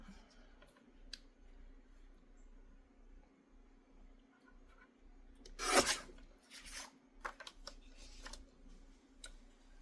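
Paper scrapes and rasps under a trimmer blade while a scrapbook page is cut, with one loud slicing swipe midway followed by softer rubbing and small clicks, close and otherwise quiet.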